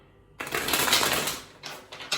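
Tarot cards are shuffled in quick riffling bursts, a long rustling run followed by two shorter flicks, close and fairly loud with no talk.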